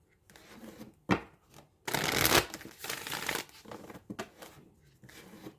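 A Moonology oracle card deck being shuffled by hand: soft riffling and sliding of cards in bursts, with one longer, louder run of rapid flutter in the middle, close and quiet.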